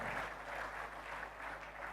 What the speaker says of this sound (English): Please applaud him.